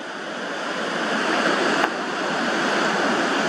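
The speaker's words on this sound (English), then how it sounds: "We normally get one big last wave that comes in." Ocean waves roll onto the shore and push sea foam in, heard as a steady broadband wash of surf that stays loud and continuous, with a brief bump near the middle and no voices over it.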